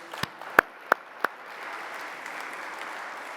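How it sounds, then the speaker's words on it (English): Conference audience applause at a Gaia-X summit: a few sharp, separate claps come first, then they swell into a soft, steady wash of clapping from the crowd. "A big applause to Thomas Cordas, please."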